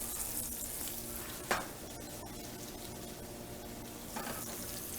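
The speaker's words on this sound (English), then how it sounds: "you can hear that sizzling." Potatoes sizzle in a hot pan, a dense, steady crackling hiss of frying with two brief louder bursts like stirring or shifting, close and continuous with no voices.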